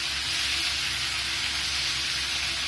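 Tomatoes sautéing for a garlic kulambu give off a steady, loud, close sizzle and hiss that carries on without a break.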